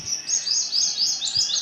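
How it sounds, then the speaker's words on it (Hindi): A small bird in a neem tree chirps in a quick series of bright, high tweets, close and clear, with no talking over it. "यहाँ पर देखिए एक चिड़िया बैठी हुई है"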